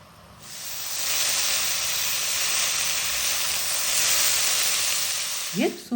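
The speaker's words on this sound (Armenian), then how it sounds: "Սունկը տապակում ենք առանց թավայի վրա կափարիչ դնելու, որպեսզի ընթացքում առաջացած հեղուկ մասը գոլորշիանա։" Sliced mushrooms fry in an open pan without a lid, giving a loud, steady hiss of steam and sizzling that holds for several seconds before a brief clatter near the end.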